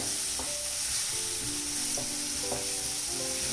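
Sliced onion and green chili sautéing in a pan for corn cheese samosa filling, a steady close sizzle with light stirring clinks and scrapes, no talking.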